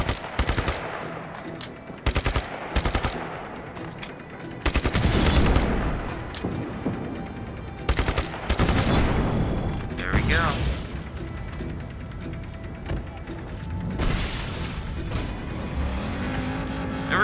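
Rapid machine-gun bursts and gunshots mixed with mechanical clatter and engine noise while driving a vehicle in the video game Just Cause 3, firing in repeated loud volleys with short gaps.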